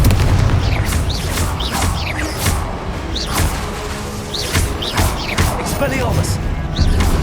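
Confringo blasting-spell explosions in the Hogwarts Legacy video game burst out repeatedly amid dense, loud combat effects, with booms, crashes and sharp pops layered under a spoken voice.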